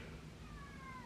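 A cat gives a single drawn-out meow, falling in pitch, faint and close in a quiet indoor room.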